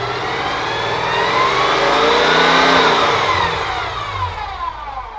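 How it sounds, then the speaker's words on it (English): A 1960 GMC pickup's 350 engine with a Pete Jackson gear drive revs up and settles back, carrying a steady whining gear noise over a loud, close mid-pitched engine note. "this Pete Jackson drive really makes a bunch of noise now compared to where in the old motor"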